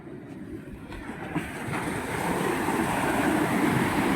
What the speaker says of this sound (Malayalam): തിര കയറി ഇവിടം വരെ എത്തി